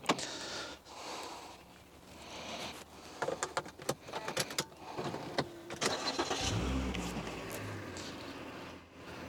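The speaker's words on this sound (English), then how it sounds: "Lovely start up, beautiful smooth running, quiet. That's a V6, what's not to like?" Clicks and mechanical clunks give way to a Mercedes CLK 350 V6 engine cranking and catching, then settling into a smooth, quiet idle.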